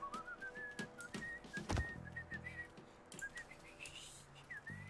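A character in the video game Mafia 3 whistles a wavering, slightly faltering tune of short rising and falling notes, with brief clicks and game sounds underneath at low level.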